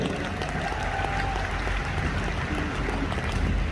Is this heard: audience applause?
yes